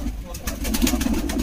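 Soft, low cooing from pigeons kept by a pigeon fancier, a steady murmuring run of coos close by, with faint voices in the background.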